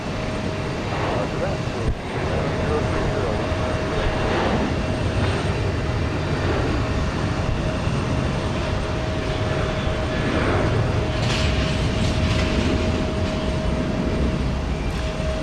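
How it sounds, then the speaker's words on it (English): A United Boeing 737-800 airliner at Houston Intercontinental Airport, heard as a steady, loud jet engine roar that holds throughout without fading. "This is a United 737-800."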